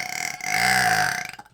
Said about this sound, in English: Burp before it's too late.